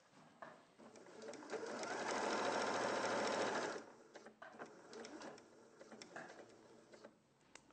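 Sewing machine stitching fabric for an animal-inspired project, a dense rapid whirr running loud and steady for about three seconds, then cutting to shorter stop-start bursts with faint background noise.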